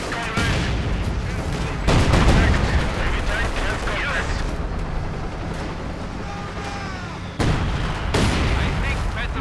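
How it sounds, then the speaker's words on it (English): Artillery and gunfire boom through a World War II real-time strategy battle with Soviet forces, heavy blasts recurring amid rattling shots and constant noise, while a commentator talks over the action. "More artillery."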